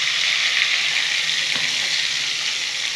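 Spice masala for a Bengali chitol fish kalia sizzles loudly in a pan as water goes in, a dense, even frying hiss with a faint clink, close and without voices.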